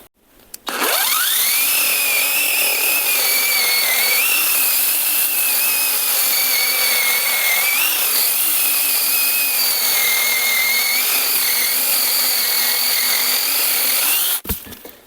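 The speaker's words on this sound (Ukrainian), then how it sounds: "показуємо, як вона пиляє на батареях. Так, як завжди, починаємо із сосни." A battery-powered L216 cordless saw cuts through pine with a steady, loud, continuous whine that holds evenly for about fourteen seconds before stopping abruptly.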